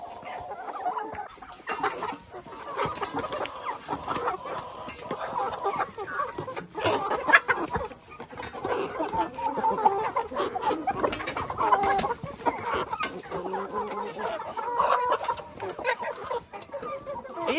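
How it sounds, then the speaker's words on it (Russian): Young hens that have just started laying cluck and murmur steadily throughout, a busy flock close by with overlapping soft calls and occasional louder squawks. "Это молодые курочки, которые вот только-только занеслись"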